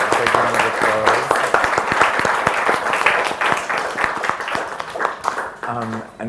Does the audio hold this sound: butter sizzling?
no